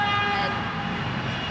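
A train horn sounds in one sustained blast near at hand, holding steady for the whole short stretch over rumbling background noise.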